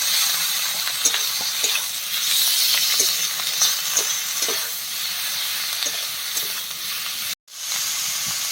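Chopped tomatoes hiss in a hot pan of spiced oil for a fish curry made with bottle gourd leaves, giving a steady close sizzle with scattered soft pops and a brief cut-out near the end.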